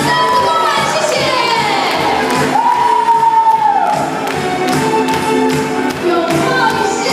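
An audience at a Lions Club installation ceremony applauds, producing a dense, steady wash of clapping mixed with cheers and voices that holds loudly throughout.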